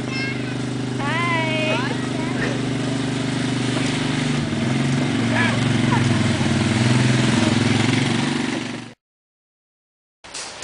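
Motorcycle engine running steadily at a close, loud idle, with a voice and other voices talking over it before it cuts out abruptly and briefly returns.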